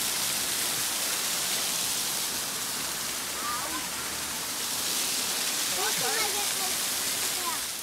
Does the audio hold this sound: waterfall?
yes